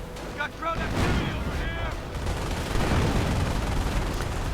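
Gunfire and cannon shots ring out in a World War II-style tank battle in a strategy video game, with rapid bursts and booming impacts. An excited commentator talks over the fighting.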